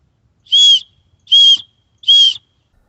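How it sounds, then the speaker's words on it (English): Three short, shrill blasts from a survival whistle, evenly spaced and loud, with silence between each. "A whistle can be used effectively even when you can't speak."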